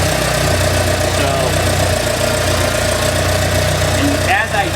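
Car engine idling steadily while its idle fuel mixture is being tuned, a constant close mechanical drone with a low rumble and no break through the whole stretch.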